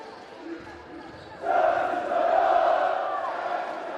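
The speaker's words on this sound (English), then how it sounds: "Hushed tones around the arena." Basketball arena crowd during a tense women's quarter-final, first a low murmur, then a swelling roar of voices rising and holding loud across the space.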